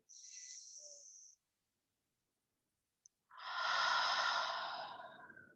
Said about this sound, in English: A long exhale through the mouth.